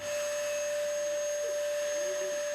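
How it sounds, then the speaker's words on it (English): A household vacuum cleaner drones steadily at home, a loud constant whine with a steady pitch that holds for the whole stretch, with no voices over it. "As the vacuum cleaner roars to life at the Coons"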